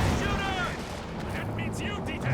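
A Werfer rocket artillery strike in Company of Heroes 2 rumbles as a dense, sustained barrage of booming impacts that fills the whole stretch, with a voice talking over it.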